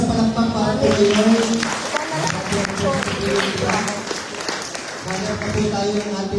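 Applause from an audience at a Filipino church or community gathering, a steady wash of clapping running under a speaking voice and background music throughout.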